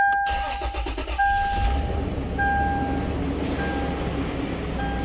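A Toyota 4Runner engine cranks and turns over, then settles into a steady, loud idle with a constant low rumble and a few high tones running across it.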